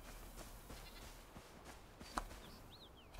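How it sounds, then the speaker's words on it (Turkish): A goat in Enshrouded gives short, faint bleats over soft ambient rustle, with a couple of brief sharper sounds mixed in. "keçiymiş"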